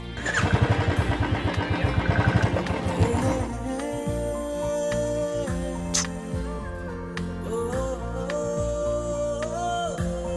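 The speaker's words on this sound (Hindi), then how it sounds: "हाँ, अब लग रहा है कि इंजन में थोड़ी पावर आई है" Motorcycle engine revving in a rapid pulsing burst, then settling under music and sound effects of a Hindi TV serial scene, loud and close.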